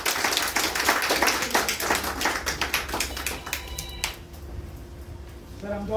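An audience at a retirement celebration bursts into dense applause for a senior accounts officer, sharp overlapping claps that thin out and fade after about four seconds, followed by a faint tone.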